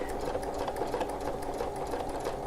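A sewing machine stitches a quilted circle wreath in a fast, even whirring run that stays close and steady, with no voices.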